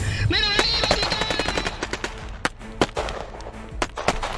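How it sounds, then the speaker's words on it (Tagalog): Staged gunfire in an audio drama crackles in rapid, uneven bursts, with machine-gun rattles and sharp single shots layered over a dense, constant din. "kasunod ng putok ng mga baril"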